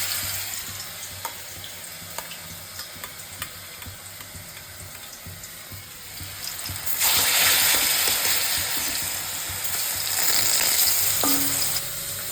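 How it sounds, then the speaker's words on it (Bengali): Dhoka, lentil cakes, frying in a pan of oil: a steady low sizzle that swells louder and brighter partway through as more pieces go in, with no voices. "ধোকাটা সেট হয়ে গেছে, পিস করেও নিয়েছি। এবার তেলে দিয়ে অল্প অল্প ভেজে নেব।"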